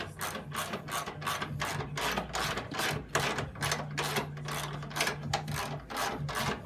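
Car jack being pumped up under an engine bay, a rapid run of evenly spaced metallic ratcheting clicks heard up close with a low steady hum beneath, no voices over it.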